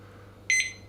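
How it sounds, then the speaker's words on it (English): A kitchen oven timer being set for baking a farmhouse loaf gives one short, bright electronic beep midway through an otherwise quiet moment. "So let's just set our timer."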